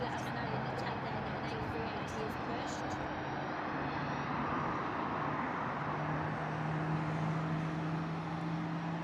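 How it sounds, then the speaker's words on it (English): Jet aircraft engines spool up at Heathrow Airport, a steady, broad roar with low droning tones that holds loud and continuous throughout, with some faint distant background noise. "whatever engines are spawning up over there, it sounds awesome"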